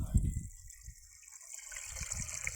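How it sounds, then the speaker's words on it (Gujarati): Water gushes and splashes from a broken tap on a farm, a low churning rush that runs on steadily and grows slightly toward the end, with faint talk in the background. "નળ ભાંગી ગયો હવે બંધ કરી દેતો"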